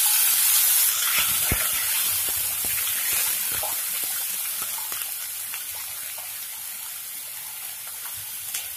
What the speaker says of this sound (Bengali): এবারে আমি পেঁয়াজ বাটা দিয়ে দেব।